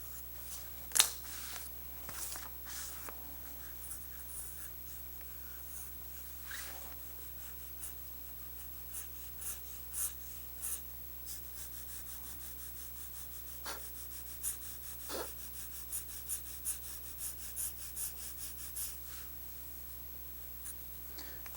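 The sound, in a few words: pencil drawing on paper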